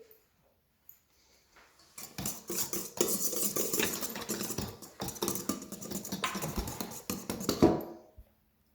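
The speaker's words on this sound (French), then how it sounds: "Je vais mélanger." Flour being mixed by hand into muffin batter in a bowl, heard as a busy run of scraping and clattering of a utensil against the bowl, fairly close and continuous before trailing off.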